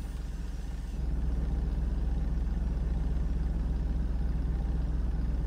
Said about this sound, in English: That is a really nice idle.